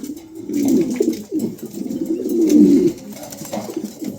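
Pigeons coo in low, throaty, rolling calls, close by and fairly steady, with soft rustling behind them.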